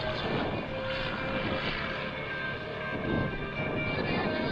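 An aerobatic propeller airplane flies a knife-edge pass across the field at an airshow, a loud sustained engine drone roaring steadily from start to finish.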